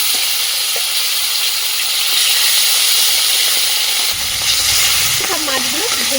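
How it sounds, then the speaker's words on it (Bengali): Rohu fish pieces go into hot oil for frying, giving a loud, steady sizzle and hiss that lasts throughout and grows denser in the final seconds. "এখন দিয়ে দিচ্ছি মাছের পিসগুলো গরম তেলের মধ্যে"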